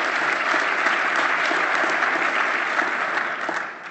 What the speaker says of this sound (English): So Scotiabank, let's give them a round of applause for supporting today's lunch.